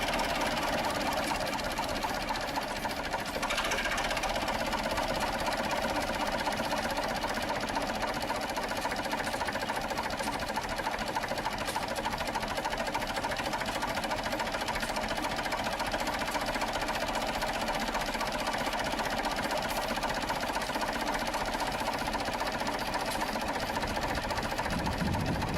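A Ruston and Hornsby diesel engine runs steadily nearby, its dense, continuous mechanical chatter and rapid clatter holding at a constant loud level throughout, with no talk over it.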